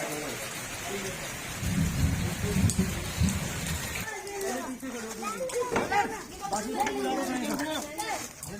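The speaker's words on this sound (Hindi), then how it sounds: "इतनी तेज बारिश हो रही है" Heavy rain pours down steadily and loudly, with people talking over the downpour.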